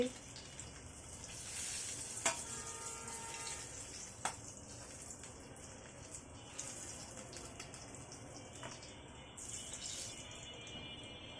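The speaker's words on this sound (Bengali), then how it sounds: "একইভাবে আমি বাকি মাছগুলো ফেরাই করে ফিরে আসছি" Goby fish frying in a pan give a steady, moderate sizzle throughout, with a few sharp clinks of a utensil against the pan near the start and occasional watery splashes.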